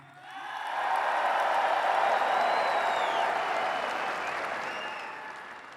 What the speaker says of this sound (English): you clap if you want that